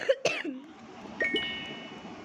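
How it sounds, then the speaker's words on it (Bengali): A person coughs a couple of times close up near the start, followed by a faint chime-like tone, with no talk. "আমার অনেক কাশি হয়েছে।"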